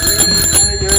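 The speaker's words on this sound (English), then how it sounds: "make sure your bell works" A bicycle bell rings loudly and continuously up close, a sustained bright metallic trill with no talking.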